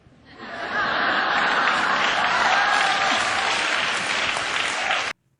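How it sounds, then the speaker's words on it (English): A live audience bursts into sustained applause mixed with cheers and laughter at a comedy rant, swelling quickly to a loud, dense wall of clapping that holds steady before cutting off abruptly. "the crowd goes wild"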